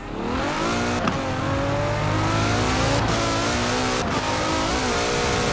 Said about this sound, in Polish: Najpierw się tak przejedziemy, zobaczymy, co samochód potrafi.